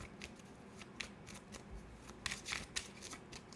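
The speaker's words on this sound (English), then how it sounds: "Just let me shuffle the crap out of these cards." Quiet, close riffling and flicking of tarot cards being shuffled, in quick irregular bursts with no talking.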